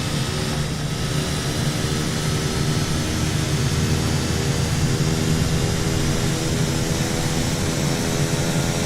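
A turboprop aircraft engine roars close by with a loud, sustained drone and steady tonal hum that never lets up.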